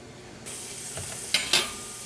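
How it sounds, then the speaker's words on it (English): Food sizzles in butter in a pan with a steady soft frying hiss, and two brief sharp scraping bursts come as it is stirred, close and fairly quiet. "I saute it till I see the light colored parts get just a little bit of a brown to them"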